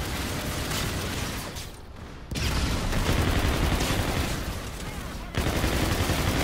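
MacTav-45 submachine gun firing in the shooter game Infinite Warfare, a dense, loud sustained burst that briefly pauses and resumes, with rapid continuous shots filling the whole stretch.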